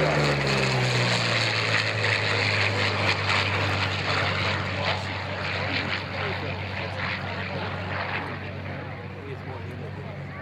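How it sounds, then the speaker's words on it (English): A Curtiss P-40 Warhawk propeller fighter, owned by the American Air Power Museum in Farmingdale, Long Island, dives past at an air show with a loud sustained engine roar and falling pitch, while an announcer talks over it. "Diving down and setting up for the angle is Dan Damio and the Curtiss P-40 Warhawk."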